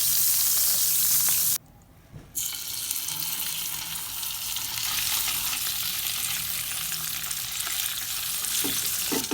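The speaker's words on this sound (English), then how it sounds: "Let's add some butter to the griller and just" Butter sizzles and spits in a hot griller as it is swirled around before grilling scored fish, a steady close frying hiss with one brief dropout.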